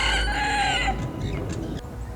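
A rooster crows loudly and close for about a second, its call tailing off into a quieter, noisy background.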